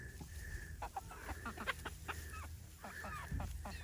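A young backyard rooster in a garden gives a run of clucks and short calls among other farm fowl, fairly faint and distant with no one speaking.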